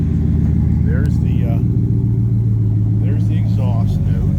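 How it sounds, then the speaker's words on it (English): Idling Ford Mustang with a Coyote V8 and dual exhaust, a steady low rumbling note running throughout just after start-up, with people talking briefly over it. "So here's the thing. Let's start it up."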